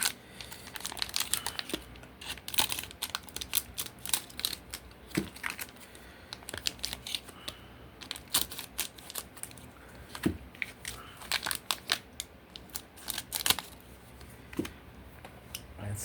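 Plastic packaging of replacement ink bottles being cut and pulled open, sharp crinkling and snipping clicks in uneven bursts with brief pauses, close and fairly quiet, no speech.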